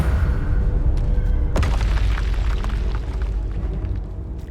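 A Confringo spell explosion in Hogwarts Legacy booms out with a deep, heavy rumble and a sharp blast partway through, leaving a long rolling roar that slowly fades.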